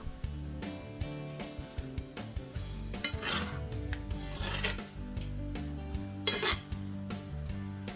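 Garlic butter prawns with chili flakes being stirred in a pan, a utensil scraping and clinking against the metal in repeated strokes over a soft sizzle.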